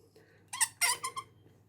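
Plastic snap fasteners squeezed with snap pliers give a few short, sharp squeaks in quick succession, close and fairly quiet against a faint hum.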